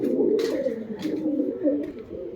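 Low, rolling coos from several pigeons close by, overlapping continuously, with a few faint clicks and rustles mixed in.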